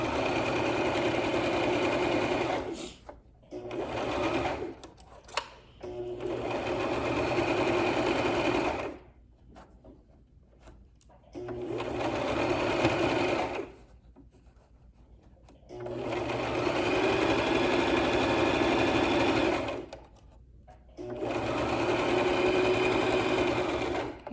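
A sewing machine stitching a face mask runs in several bursts, each a fast steady whir lasting a few seconds, separated by short quiet pauses.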